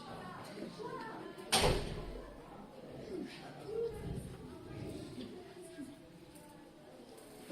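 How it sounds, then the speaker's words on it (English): A classroom door swings shut with a single solid thud, followed by faint room noise and quiet voices in the background. "Can you close the door, please?"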